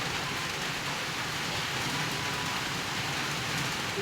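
Steady, dense rain falls outdoors as an even hiss, close and constant throughout with no pauses and no voices.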